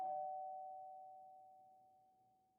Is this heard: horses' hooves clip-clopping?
no